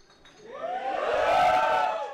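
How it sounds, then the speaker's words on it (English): A comedy club audience cheers and whoops for a stand-up comedian, a dense crowd roar that swells over about two seconds, holds loud, then begins to fade. "Good-looking people, give me a cheer."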